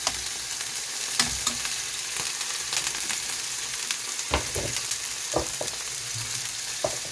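Pork belly (samgyeopsal) frying in a pan gives a loud, dense, continuous sizzle and crackle, with occasional sharper pops and utensil knocks throughout and no speech.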